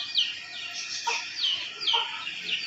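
A hen with young chicks in a rural yard, heard as a few soft clucks mixed with several high, thin chick peeps repeating irregularly, fairly close and moderately quiet.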